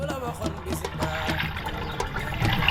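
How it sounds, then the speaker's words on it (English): Water drains through a sieve holding fish while Senegalese yassa is prepared, giving a steady, close rush of pouring and trickling liquid that runs the whole time. "all the water will pass through the holes and go down"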